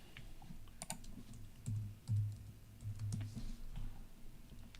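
Computer keyboard keys clatter in quick irregular bursts close up during a live online session, with no voices over the typing.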